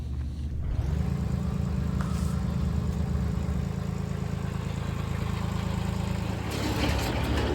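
A hay baler driven off a tractor PTO, running with a repaired chain: a steady loud mechanical rumble and drone that starts abruptly and holds evenly, with faint rattling on top and no voices.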